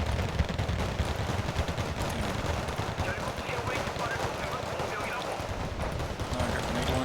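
Infantry gunfire in the Wargame Red Dragon war game set in a Korean conflict, rapid overlapping rifle and machine-gun bursts forming a dense, continuous crackle at a moderate distance.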